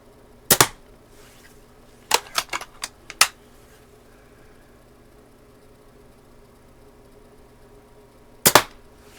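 A rebuilt Daisy 299 BB gun fires at a bullseye target in sharp, isolated snaps: one shot, then a quick cluster of several cracks, then another after a long quiet pause.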